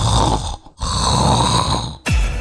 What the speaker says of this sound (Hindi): यूं ही कुंभकर्ण बने खर्राटे लेते रहोगे?